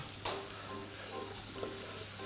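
Pepper fries in a pan during a lavash appetizer recipe, a quiet, steady sizzle with a faint stir or two, with no talking.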